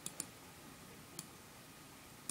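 Several faint mouse clicks, made while pressing OK in screen recording software, come as a quick pair and then two isolated clicks over a near-silent background.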